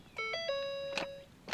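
A 2013 Ford Fusion that has stalled fails to start as the key is turned: electronic warning chimes and dinging tones sound, with no engine cranking, close and moderately quiet.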